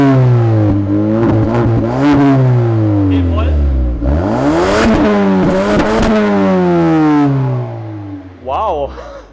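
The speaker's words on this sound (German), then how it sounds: "Er ist jetzt an. Der wird in der Fahrt noch lauter. Bitte einmal Gas geben." Ford Focus ST 2020 with 280 PS, engine revved hard in repeated rising and falling bursts, close and loud; the revs climb and drop several times, then settle near the end.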